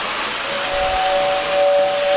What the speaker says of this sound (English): So the standard gauge has a whistle.